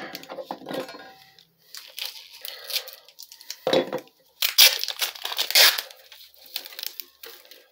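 Tape pulled and torn off a roll for carbon fiber stainless piercing blowgun darts, a few crisp ripping and crinkling bursts at close range with short pauses in between.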